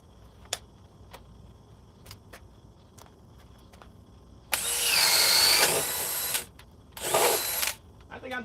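A Flex cordless drill whirs up in two bursts, a long loud run of about a second and a half followed after a pause by a shorter one, with faint ticking clicks before it starts.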